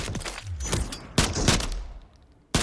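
Gunfire in the video game Call of Duty Modern Warfare III comes in sharp, loud bursts: a quick flurry of shots, a heavier volley, a pause as the echo fades, then another sudden crack at the end.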